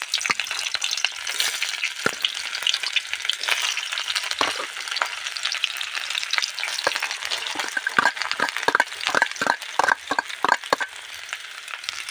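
Chopped onion and garlic frying in oil in a hot wok, continuous crackling sizzle with a quickening series of scraping stir strokes toward the end, close and fairly loud.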